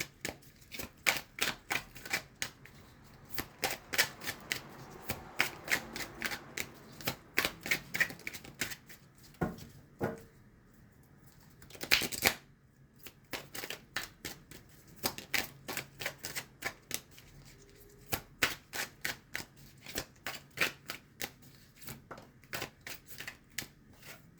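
Tarot cards shuffled and drawn during a reading, a long string of quick, crisp snaps and flutters from close by, broken by brief pauses and one denser riffle near the middle.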